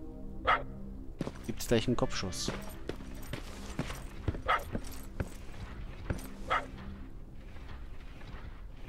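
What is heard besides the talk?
dog barking in Terminator Resistance video game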